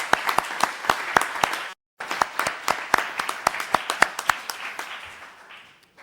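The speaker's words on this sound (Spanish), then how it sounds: "Y un aplauso." Audience at a round-table on hate speech applauding a human rights figure, a room of hands clapping in distinct sharp claps, briefly cutting out, then resuming and tapering off toward the end.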